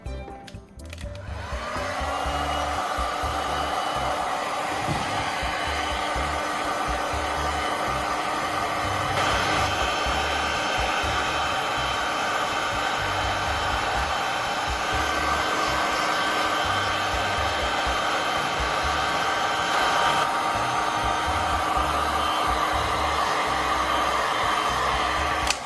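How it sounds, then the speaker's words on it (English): A heat gun warms a plastic tube with a continuous, steady blowing whoosh and hum that starts up and holds evenly, close and moderately loud, with no talk. "Using a heat gun, I'm going to gently warm up the plastic so it becomes flexible and easy to work with."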